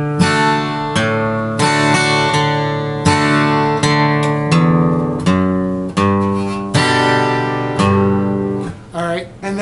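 Acoustic guitar plays a country boom-chuck strum, bass notes walking from D up to G between strummed chords. It is close and clear, with steady even strokes and no talking.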